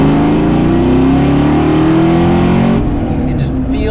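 A 2004 Mustang Cobra accelerating hard with its tires spinning, a loud, close engine roar climbing steadily in pitch before easing off, with voices over the top.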